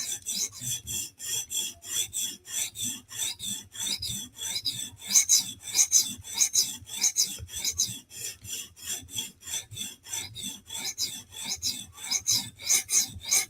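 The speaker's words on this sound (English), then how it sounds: "your first stroke with the stone, you can feel and hear that it's different" A sharpening stone strokes along a knife blade, working up a burr: close, steady rasping scrapes repeat in a quick, even rhythm, roughly two strokes per second, with no talking.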